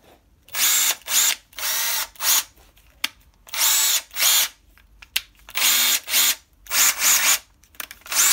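Würth cordless screwdriver powered by a Bosch battery, running in about nine short, loud whirring bursts separated by brief silences.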